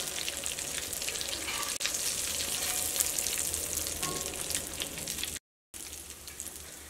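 Hot oil sizzles steadily in a pan while chicken and potatoes fry for a Kerala chicken roast, a close, dense crackle with faint bubbling pops that briefly cuts out near the end before resuming.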